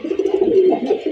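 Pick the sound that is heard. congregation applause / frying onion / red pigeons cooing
red pigeons cooing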